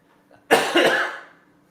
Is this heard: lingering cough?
yes